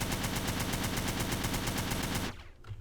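A Tech 9 fires in GTA San Andreas Multiplayer, a loud, continuous rapid-fire burst of automatic gunfire lasting over two seconds before it cuts off abruptly into quiet.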